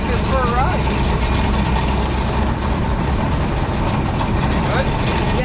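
Allis Chalmers Gleaner G combine harvester engine running steadily at idle, a continuous low rumble with constant loudness throughout, with brief voices faintly audible over it.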